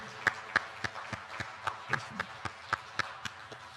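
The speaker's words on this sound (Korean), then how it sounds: "성탄의 주인공이신 우리 예수님께 감사와 영광과 찬양의 박수를 올려드리십시오" Congregation at a Christmas Day worship service at Incheon Sinkwang Church, clapping in steady unison: a fairly faint run of evenly spaced claps at a quick, regular rhythm.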